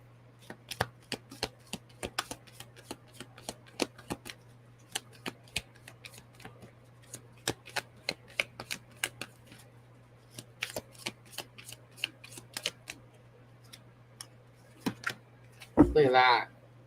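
A deck of tarot cards is shuffled during a live reading, a long run of quick crisp riffling clicks at close range over a steady low hum, with a brief burst of talk at the end.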